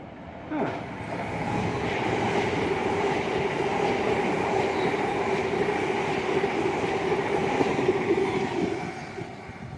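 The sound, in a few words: empty Elizabeth line train passing through station without stopping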